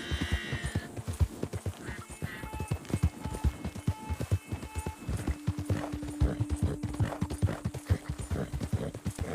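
Horse hooves clip-clopping in Red Dead Redemption 2, a fast, dense run of close hoofbeats that continues throughout, with a brief whinny and some steady game music tones underneath.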